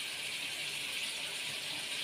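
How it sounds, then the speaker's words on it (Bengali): Prawns frying in oil in a pan, giving a steady, even sizzling hiss that stays at a low level throughout without a break. "দেখো চিংড়ি মাছগুলো ভাজা হচ্ছে"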